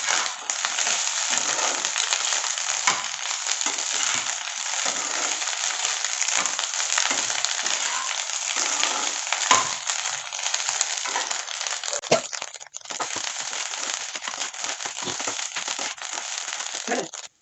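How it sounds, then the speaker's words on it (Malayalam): Fried chicken pieces are stirred in a pan for roadside-style chicken fried rice, giving a continuous loud crackling sizzle with scraping and stirring noise throughout, and no talking. "ഈ ചിക്കൻ ഫ്രൈ ചെയ്തത് ഇതിലിട്ട് കൊടുക്കാം. നല്ലപോലെ ഒന്ന് ഇളക്കി കൊടുക്കാം."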